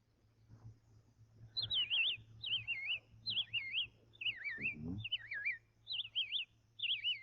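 On a 1939 radio broadcast of the Major Bowes Amateur Hour, a person whistles an imitation of a robin's song. Seven or so short warbling phrases come in an even rhythm over a faint low hum.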